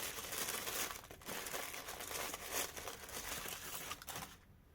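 Black paper wrapping around a Philips i9000 Prestige shaver travel case crinkles and rustles in steady close handling for several seconds, then goes quiet at the end.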